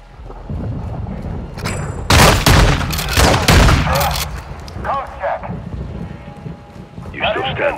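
Loud, close gunfire in the Call of Duty Modern Warfare 2 campaign: a clustered volley of sharp shots over a couple of seconds, with game voices speaking before and after.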